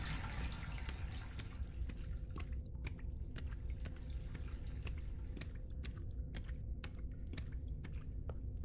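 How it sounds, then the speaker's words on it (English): Water pouring and filling a large house in an indie horror video game, a steady rushing wash with scattered drips and clicks running throughout at even volume. "The water's filling up."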